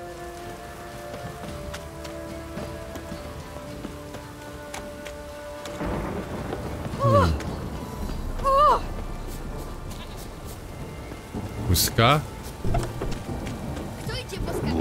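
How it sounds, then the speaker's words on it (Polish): Thunderstorm with rain in The Witcher 3: Wild Hunt, a steady wash of rain throughout with low rumbles swelling near the middle and again toward the end, while bleating animals and brief voices cut through. "Burza, psia krew."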